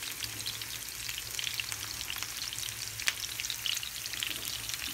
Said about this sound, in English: We have to cook these Karelas in medium heat.